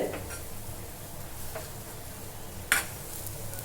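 A dal filling for hing kochuri is stirred and pressed against the sides of a kadai, giving a soft, steady scraping with faint sizzling and one brief metallic clink near the end.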